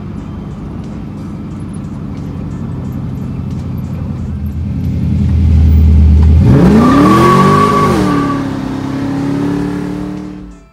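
A Camaro's LS1 V8 with an aftermarket cam and leaking headers idles with a lumpy rough burble, then revs hard and loud before settling back, close up with no talking.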